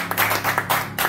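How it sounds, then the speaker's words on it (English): A church congregation claps together in a quick, loud, rhythmic burst of about four or five beats, close and without talk. "let's give God a hand clap."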